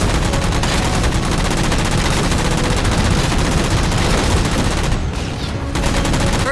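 Dense, continuous gunfire in a Halo 4 battle aimed at shooting down jammers, loud rapid bursts running almost without a break before a brief dip near the end.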